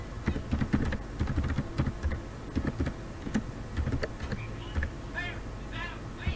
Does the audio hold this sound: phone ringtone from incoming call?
no